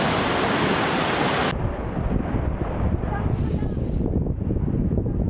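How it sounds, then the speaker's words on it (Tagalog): Rushing water from Asen Falls roars loudly and continuously up close, buffeted by wind noise on the microphone. "Ito yung falls."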